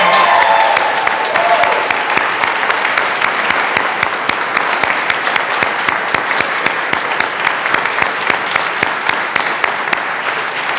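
A crowd applauds steadily in the Colorado House of Representatives chamber, with sustained, dense clapping that fills the room at a fairly loud level.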